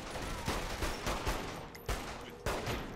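Gunfire in Saints Row: The Third, a run of sharp shots fired in irregular bursts against a dense, noisy background of game sound, close and fairly loud.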